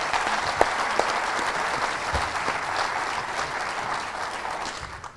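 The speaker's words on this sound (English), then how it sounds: "let's give him another round of applause." Audience at a St. Augustine history seminar claps for the mayor, a broad steady applause with a couple of sharper individual claps standing out early, gradually easing toward the end.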